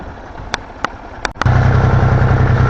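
A mini tractor fitted with a hay rake works a hayfield, its engine starting up after a few sharp clicks and then running steadily and loudly with a low, even drone.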